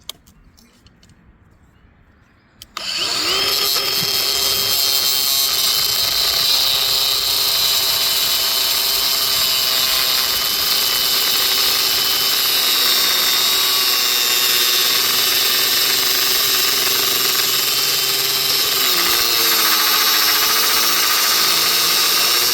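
A power tool cuts through rebar after a short quiet lead-in, then runs as a loud, continuous high-pitched whine that holds steady for about twenty seconds, close and alone.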